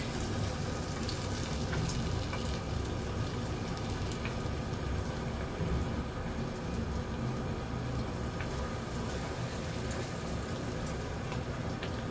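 Snacks fry in hot oil, a continuous dense crackling sizzle with a steady level throughout and no voices over it.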